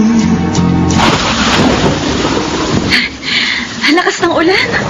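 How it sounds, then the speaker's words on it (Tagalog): Heavy rain roars in a wide, dense wash with wind noise mixed in. A music fade and voices come and go over it near the end. "Lakas ng ulan."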